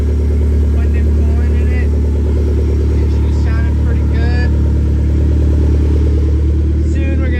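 Drift car with an FE3 engine swap running loudly on a test drive, a steady close engine drone throughout, with faint voices over it.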